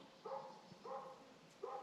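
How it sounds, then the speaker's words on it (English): A dog barks three times at a rural village house-building site, the barks spaced evenly and faint, sounding distant against quiet background noise. "a dog is barking."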